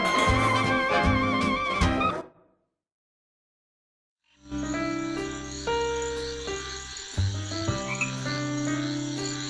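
Frogs croak in a swampy bayou scene from The Princess and the Frog video game, dense throaty calls layered over insect chirps, cutting out to silence for about two seconds before returning in a loud chorus.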